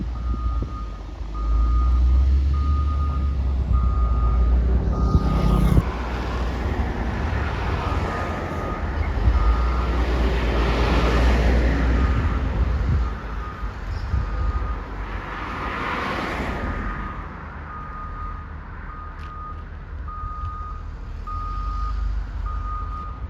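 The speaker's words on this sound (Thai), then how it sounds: "รถบดกำลังมา" Heavy road construction machinery works on a four-lane highway widening job, with a road roller approaching: a deep engine rumble and repeated reversing beeps at regular intervals, moderately near and loud, with no one talking.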